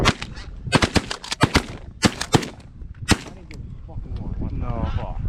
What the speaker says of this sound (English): I shot it.